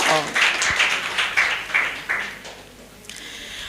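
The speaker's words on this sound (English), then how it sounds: "A round of applause for" Audience applause at a women lawyers' gender and justice conference in Kenya, a short burst of clapping that fades after about two seconds, followed by a fainter patter.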